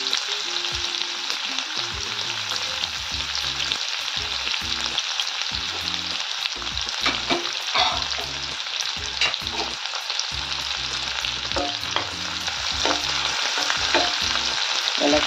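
Chopped onion sizzles steadily in hot oil with mustard seeds, cumin and curry leaves in a kadhai for a Maharashtrian green chickpea bhaji, with continuous loud frying hiss, occasional crackles and intermittent stirring knocks throughout.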